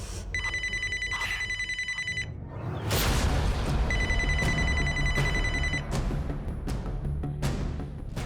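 A telephone rings after a call is placed, two long electronic ring bursts separated by a pause, with a dull thump and background rumble between them and faint clicks near the end.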